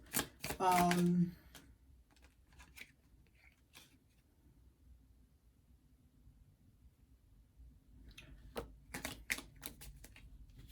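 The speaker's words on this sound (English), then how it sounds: "I don't know why I'm shuffling right now." Tarot cards are riffled in a quick burst at the start, then near silence, followed by several sharp card snaps and shuffles toward the end.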